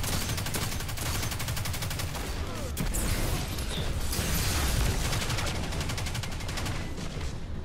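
The Riskrunner arc submachine gun fires in long rapid automatic bursts, loud and close, with a brief pause partway through and no talk.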